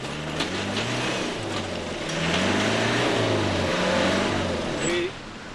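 Land Rover Discovery off-road vehicles rev their engines hard during a Camel Trophy race around the Mundo Maya, a steady loud roar with rising and falling pitch and faint voices mixed in.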